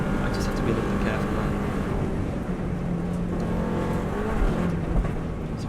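Subaru Impreza race car on the power at the bottom of Bray Hill, engine roaring steadily close up from start to finish under a driver's running commentary.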